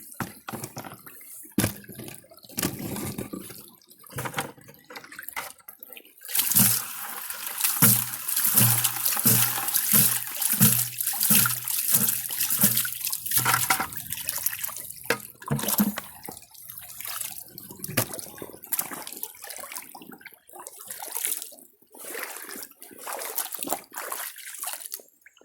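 Still water pours steadily into a gold pan for several seconds, splashing and gurgling nearby, then trickles off among scattered handling clatter.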